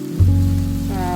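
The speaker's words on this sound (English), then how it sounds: "when you see it starting to stick, add your water." Water poured into a hot pan of coconut rice that has started to stick, with a loud hiss and steady sizzle that starts abruptly and carries on close up.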